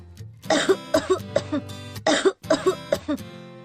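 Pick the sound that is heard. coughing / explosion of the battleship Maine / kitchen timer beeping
coughing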